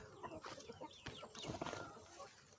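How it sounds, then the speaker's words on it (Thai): Several chickens cluck continuously in a grassy farmyard scattered with cut grass and banana leaves, a busy, close chorus of short, irregular clucks with no talking. "นี่มีไก่ไวรุ่นอยู่สามตัว"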